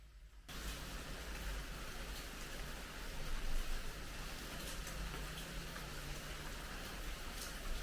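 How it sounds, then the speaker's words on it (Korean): Rain falls steadily in Bali, a soft even hiss of drops that starts abruptly after a brief quiet moment and then continues unbroken. "비가 어쩔 수 없이 오나봐요. 근데 저는 비 오는 발리도 너무너무 좋아해요."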